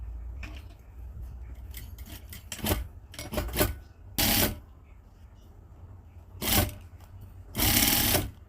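A sewing machine stitches a skirt hem in short separate runs. The motor whirrs up in bursts of a second or so over a low hum, with quieter rustling and handling between the runs.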